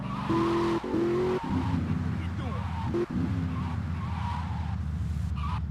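A Furnace car drives in GTA Vice City, its engine droning steadily with a few brief tire squeals and skids, loud and close throughout.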